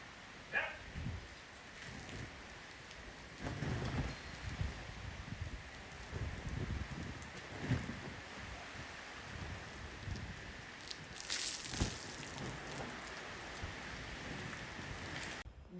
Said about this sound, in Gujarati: જો આપણે છે ને મસ્ત બહાર વરસાદ આવે છે એકદમ જોરદાર.